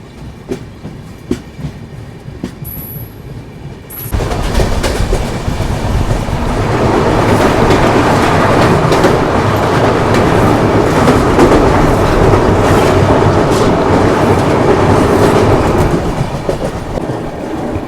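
The Rajdhani Express pulls into New Alipurduar railway station in West Bengal. After a quieter start, the loud, close rumble and clatter of the passing coaches rises suddenly and holds steady, with rhythmic wheel clicks.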